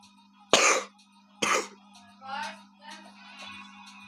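A coughing fit breaks out with two loud, harsh coughs close to the microphone, then trails into weaker throat-clearing hacks over a faint steady electrical hum.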